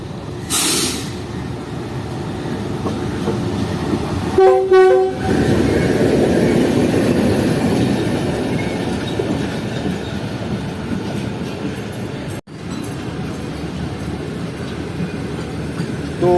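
An express train led by locomotive GU24565 roars past close by, its horn sounding once in a short blast before the steady, loud rumble of the wagons continues to the end.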